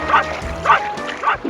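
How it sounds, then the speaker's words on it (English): Dog barks from a Nintendo 64 video game, three short yipping barks spaced evenly and fairly close, over a steady game background tone. "I hear dogs and things."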